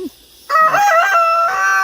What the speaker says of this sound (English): I think that little one over there, it's a rooster.